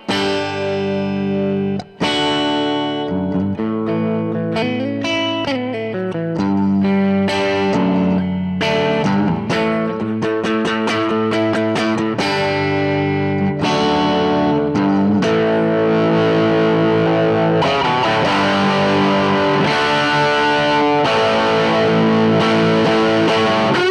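A 1957 Gibson Les Paul Goldtop electric guitar played with both controls turned up gives a bright, distorted tone as a continuous run of picked notes and chords rings out, close and alone.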